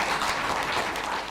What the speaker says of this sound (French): vous pouvez applaudir pour ce que vous avez fait pour les FDS